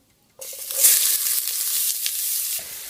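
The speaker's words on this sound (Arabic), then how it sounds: "نبدأ نحمر البصل بقى عشان الرز" A small chopped onion drops into a hot pan for rice and instantly sizzles loudly. The frying hiss holds steady and close for a couple of seconds, then cuts off abruptly.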